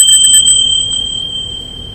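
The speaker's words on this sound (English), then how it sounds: "Bought the loudest bicycle bell I've ever heard." A very loud bicycle bell rings several quick times up close, then a single clear ting lingers and slowly fades out alone.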